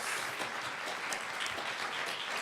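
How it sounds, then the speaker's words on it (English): A symposium audience at a law review education event applauds its panelists, steady dense clapping that holds evenly throughout without any voices. "Can we all give them an applause,"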